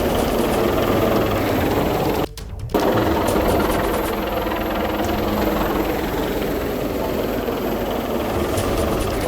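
A Coast Guard helicopter airlifts people during flooding in Gujarat, its dense rotor and engine roar loud and continuous, briefly cut off for a moment before resuming.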